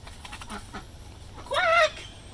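A brief nasal quack-like call, apparently a person imitating a duck, stands out after some faint murmuring.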